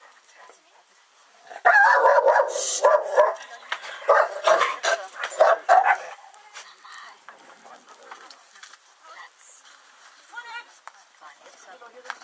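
A dog barks several times in a quick burst of loud, close woofs, then falls quieter with softer whimpering sounds while people talk nearby.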